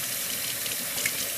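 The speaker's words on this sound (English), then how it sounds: "And just rinse it. Rinse it really good to get the soap out." Steady stream of tap water rinsing soap out of an essential oil diffuser, a continuous close, even splashing rush with no talking.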